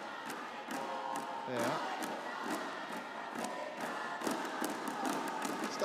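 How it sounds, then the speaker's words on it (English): A crowd gathers and murmurs in the Istora Senayan badminton arena on day one of the 2015 World Championships. The rumble is continuous with scattered shouts and thumps, and a voice briefly speaks over it. "Heard in the background that the crowds are starting to arrive."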